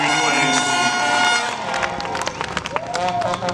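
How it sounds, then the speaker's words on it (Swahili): A church congregation at the dedication of a new T.A.G church building in Sumbawanga breaks into loud applause mixed with cheering, which fades into scattered clapping and crowd noise. "jipigieni makofi mengi."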